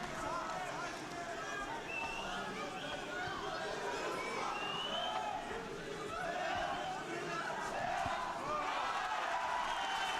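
A boxing hall crowd roars continuously through a bout, a dense wash of cheering and chatter with a commentator talking over it.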